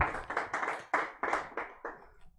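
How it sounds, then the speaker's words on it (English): A church congregation claps hands in short, loud bursts, each group of claps ringing close and distinct before fading at the end, with no talk over it. "Give him a hand clap."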